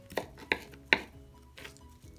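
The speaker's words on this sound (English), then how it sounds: "I like to bunch it up and go ahead and get it chopped." A knife chops through a bunched handful of fresh herbs on a board for salsa, three crisp close blows followed by two softer cuts, with no voices.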